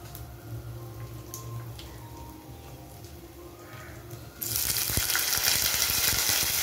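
Oil heats quietly with faint clinks before cumin, urad dal and garlic drop in, bursting into a loud, bright, steady sizzle for a tempering.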